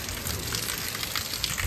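Rain falling steadily, a dense, even hiss of drops that fills the short stretch on its own with no voices.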